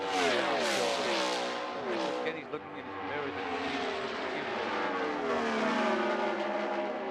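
IndyCar race car engines screaming past at Las Vegas Motor Speedway during the 1999 race, with high revs sweeping up and down as the cars pass, under a commentator talking.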